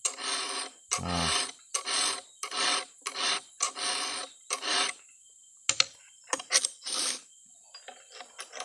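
Close, rhythmic file strokes rasping across the teeth of a Stihl 070 chainsaw chain, about a dozen separate scraping passes with short pauses between them, plus one brief spoken word.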